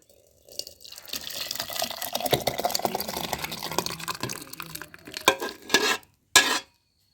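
Vegetable salna with coconut bubbles and simmers in a pot, with busy wet bubbling, stirring and dripping sounds up close, ending in a few sharper clinks and splashes.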